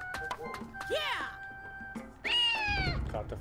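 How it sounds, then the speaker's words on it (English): A cartoonish cat meows twice in Naruto Shippuden Ultimate Ninja Storm Legacy, a short rising yowl followed by a longer strained cry, with game sounds behind. "Meow. Sound like a dying cat."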